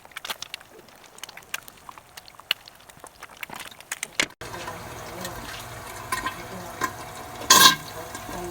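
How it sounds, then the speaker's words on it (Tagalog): Three eggs fry in a pan with soft crackling and bubbling sizzle, punctuated by faint clinks and scraping, then a louder steady hiss with a brief loud burst near the end. "magpiprito na ako ng itlog kasi may kapartner talagang itlog yan"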